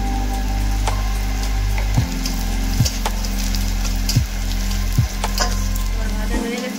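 Garlic, onion and black cumin fry in hot oil in a kadai with a loud, dense crackle over a low steady hum, with regular knocking stirs every second or so.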